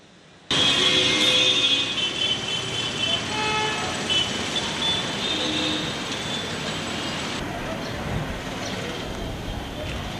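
Sparse traffic on the main road from Gandhi Chowk to Shivaji Circle in Bijapur, a steady roar of passing vehicles with a loud horn blaring for several seconds, then fading into lower road rumble; voices faintly underneath.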